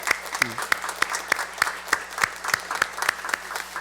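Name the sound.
church congregation applause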